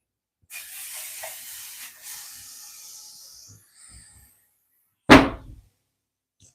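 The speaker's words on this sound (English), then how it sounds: "That way that motherfucker just sizzle and cook." A burger patty hits a hot skillet and sizzles with a loud hiss that fades over a few seconds, followed by a short quiet gap and then a single sharp knock.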